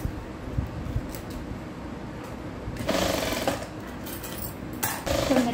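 A sewing machine stitches a blouse in short, rapid mechanical bursts with steady whirring and clatter, close by, separated by quieter pauses.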